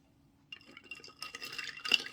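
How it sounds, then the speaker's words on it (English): Water poured into a cup of homemade cordial over ice, a brief splashing fill that starts softly and grows brighter and louder toward the end, close by with no talking. "Top it up to some water."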